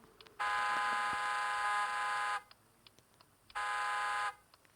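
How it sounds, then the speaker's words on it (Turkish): A car horn honks in two long, steady blasts of about two seconds each with a short pause between them, heard close and clear with no talking. "Korna."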